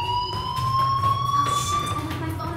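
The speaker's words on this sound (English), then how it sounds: "do you hear that fire alarm? That means you should be outside." An in-game fire alarm in Life is Strange rings as a continuous, piercing electronic tone that holds steady and fairly loud throughout, with a low ambient hum beneath it.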